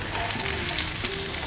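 Hot oil sizzling with golden-browned spices in a pan before onions go in for a spinach and potato curry, a loud continuous close-up crackle and hiss with faint stirring.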